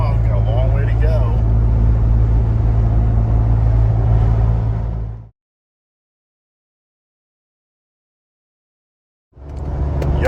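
Ford Bronco Wildtrak with a 2.7 V6 cruising at highway speed while towing: a steady low engine and road drone fills the cabin, cut off by several seconds of complete silence before resuming.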